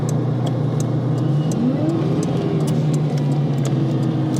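A 1989 Ferrari 328 GTB engine hums steadily and loud from inside the car as it downshifts from fifth toward second, the pitch rising and falling smoothly with a regular faint ticking above, with no talking.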